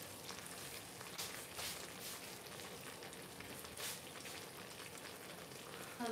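Pumpkin spice caramel sauce bubbles and sizzles steadily in a pan, a soft, continuous crackle with occasional brighter pops, fairly quiet and close, with no voices.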